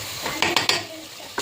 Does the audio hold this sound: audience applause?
no